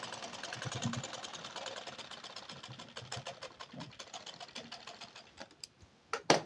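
A sewing machine stitches a blouse at a steady, rapid needle rhythm, close and clear, tapering off with a few final clicks near the end.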